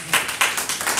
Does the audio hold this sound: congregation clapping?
yes